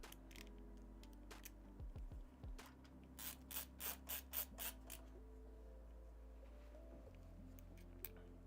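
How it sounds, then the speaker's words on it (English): A power supply is bolted into a PC case, a faint, close ratcheting screwdriver clicking in short bursts with brief metallic rubs and taps, no talk. "let's bolt in our power supply."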